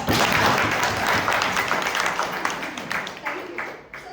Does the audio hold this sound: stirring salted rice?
no